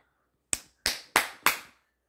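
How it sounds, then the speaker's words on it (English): Four sharp hand claps in an even, slightly quick rhythm, close and loud, with silence before and after. "We use our hands to clap."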